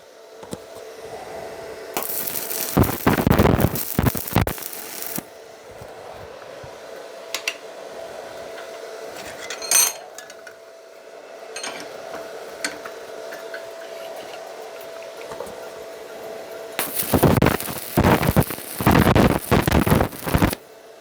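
Tack welds and finishing welds are laid on a metal part, with two long bursts of harsh crackling, sizzling buzz at the start and end, separated by a quieter stretch of humming and small clicks.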